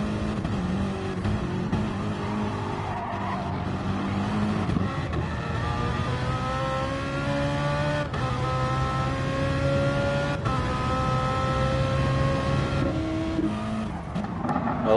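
Race cars in a sim racing game on the Maggiore GP circuit, Gr3 class, engines droning and shifting pitch continuously as several cars run close together, loud and steady with no breaks.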